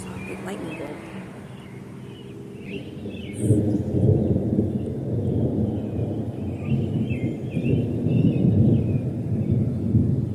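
Low rolling thunder rumbles through a muggy outdoor storm, building from about three seconds on and staying loud, with birds faintly chirping above it.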